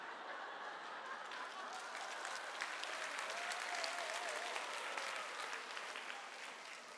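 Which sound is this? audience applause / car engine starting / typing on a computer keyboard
audience applause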